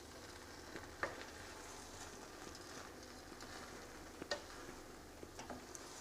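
Broccoli and rice are stirred in a pot of chicken tahari, a quiet low sizzle with a few soft scraping taps of the spoon, faint and without talk.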